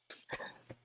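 A person coughs, a quick pair of bursts then a third, fairly close and clear with no talking, in a quiet indoor setting.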